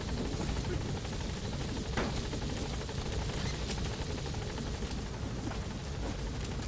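A helicopter in Metal Gear Solid 5 gives off a constant loud roar with fast rotor chopping, steady throughout with a few dull thumps.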